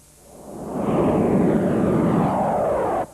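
Military fighter jets fly over the Aegean Sea as a loud roaring rush that swells in about a second, holds steady, then cuts off abruptly.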